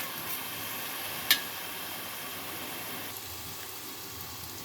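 Onions frying in a pan for a home-cooked tomato curry give a soft, steady sizzle throughout, broken once by a brief sharp tick, with no one talking.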